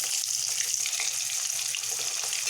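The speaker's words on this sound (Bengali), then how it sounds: "নুন হলুদ মাখানো ডিমটাকে ভালো করে ভেজে নেব।" Eggs coated in salt and turmeric fry in hot oil, giving a steady close sizzle with faint bubbling crackle throughout, and no one speaks.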